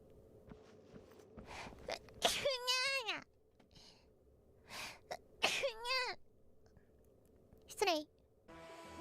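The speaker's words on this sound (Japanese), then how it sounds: "ごめん、くしゃみが。" A Hololive VTuber lets out a few sharp, high-pitched voiced sneezes, each a quick rising-and-falling burst close to the mic, separated by quiet breathy pauses.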